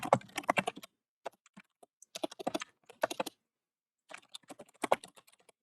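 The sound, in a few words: typing on a computer keyboard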